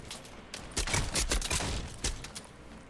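Scattered gunfire in a video game with snipers and players flying overhead, several overlapping shots in a dense cluster at middling loudness, with no talking.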